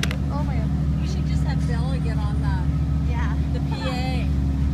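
A yacht's engine idles in a canal lock with a constant low droning hum, while several people talk loudly over it nearby.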